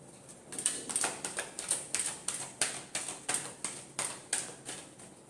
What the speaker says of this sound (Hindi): एक और शफल